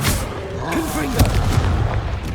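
Confringo blasting spell in the video game Hogwarts Legacy, a loud booming explosion with a sharp crack partway through, surrounded by rumbling game effects while a voice talks over it.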